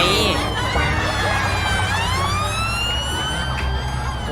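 A wailing vehicle siren from a ten-wheel truck in Farming Simulator 19 sweeps up and down continuously, loud and close, filling the whole stretch with steady engine noise beneath.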